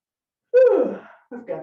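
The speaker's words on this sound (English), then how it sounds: "the yawn's bad today" A person in the middle of a standing stretching session lets out a drawn-out yawn, voiced and falling in pitch, close and fairly loud, then a softer breathy trailing sound after a short pause.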